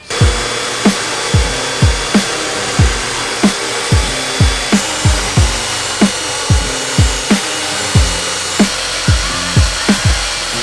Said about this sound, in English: we're just gonna make these holes bigger so we could fit the bolt through there